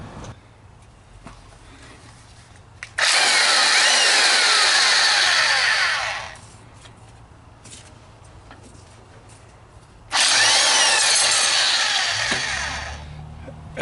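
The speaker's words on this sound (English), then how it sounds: "that impact makes it easy." Impact wrench removing a nut on a Harbor Freight 4375-watt generator engine, two loud sustained buzzing bursts of about three seconds each, close by, with a quiet pause between.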